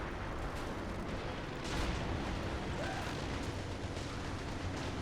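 Artillery fire in a World War II strategy battle game at Gellért Hill, a few muffled booms rumbling from a distance under dense ongoing battle noise.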